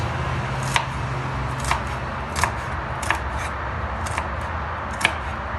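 A knife chops black-eyed peas on a cutting board in a loose, steady rhythm, about one cut each second, close and crisp over a faint hum.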